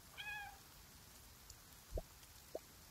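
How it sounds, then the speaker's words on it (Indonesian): A cat meows twice in the Cat Fantasy mobile game, with a short clear mew near the start, a faint patter like rain underneath, and two soft clicks later. "Oke, ada suara kucing."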